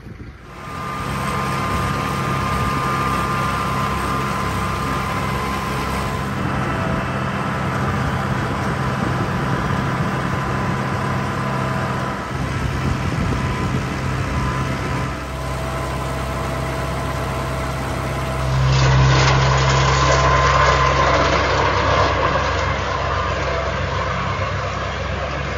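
A lawn tractor's engine runs steadily while mowing, a constant droning hum that holds for the whole stretch, then shifts louder and rougher near the end as the load changes.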